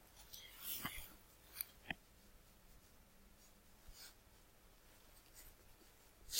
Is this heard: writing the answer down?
yes